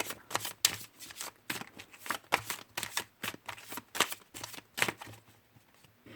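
A deck of oracle cards is shuffled, giving a quick run of crisp riffling bursts about twice a second. The sound is close and fairly quiet.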